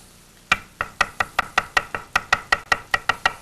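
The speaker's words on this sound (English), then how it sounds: "Just chop it coarsely" A knife chops mint coarsely on a cutting board, with about fourteen sharp, steady knocks in quick succession, close and crisp, and no talking.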